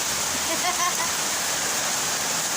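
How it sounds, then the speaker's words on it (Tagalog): Heavy rainwater pours down a flight of stairs like a waterfall, a steady rushing roar up close, with a voice speaking briefly over it near the start. "Yung hagdan ni Tinday, naging falls"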